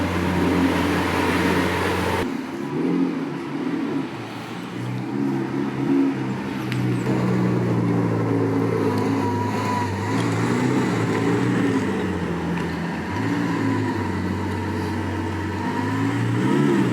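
A Lamborghini Aventador SVJ engine revs loudly and nearby, with rising and falling harmonic tones that run in several sustained pulls over a continuous roar.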